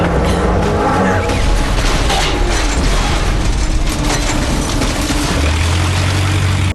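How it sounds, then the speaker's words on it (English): A loud, continuous roar of rumbling explosions and crashing debris from a sea vehicle blowing up in a video game fills the whole stretch, heavy and dense with deep low-end thunder. "another sea vehicle explosion"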